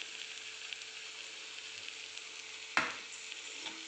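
Cluster bean stir-fry with crushed peanuts being mixed in a hot pan, soft steady sizzling with faint stirring, then a sharp close clank of the spoon against the pan near the end.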